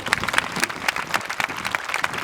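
A church congregation claps during a sermon, a brief burst of crowd applause with distinct sharp claps at fairly close range and no talk over it.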